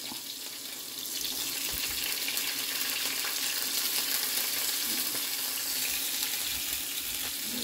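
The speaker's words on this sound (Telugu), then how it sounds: "ఆయిల్ వేడైంది. జీలకర్ర వేసిన తర్వాత పచ్చిమిర్చి, ఉల్లిగడ్డ వేద్దాం." Green chilies and onions fry in hot oil with cumin, giving a steady, close hiss and crackle that swells after the first second and holds evenly, with no talking.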